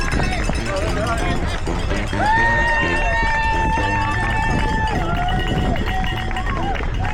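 Spectators at a cheer section along a marathon course near the 15 km mark shout and cheer, with a runner's steady footfalls throughout and someone talking over the scene.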